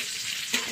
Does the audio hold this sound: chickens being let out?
no